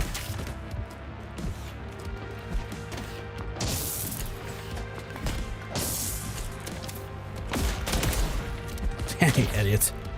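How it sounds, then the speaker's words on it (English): Video game gunfire in a shooter, several sharp shots and bursts scattered over a busy background of game music and effects, with talking underneath. "I can put bullets in boys' heads."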